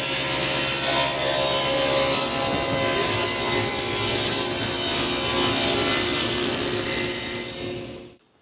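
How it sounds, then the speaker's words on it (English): A table saw rips a wooden board, edge straightened parallel to the other, with a steady loud whine and rasping cut running close up for about eight seconds before spinning down to silence, no one speaking. "what I'm going to do is just run it through the table saw"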